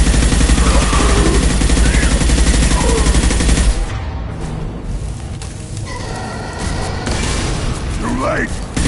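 Heavy gunfire in the Mass Effect 2 video game, with loud sustained automatic bursts and booming shots up close that ease off midway and then pick up again, while voices talk over the combat.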